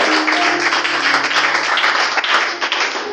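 A church congregation bursts into dense, sustained applause during a worship service, loud and continuous clapping that fills the room for a few seconds.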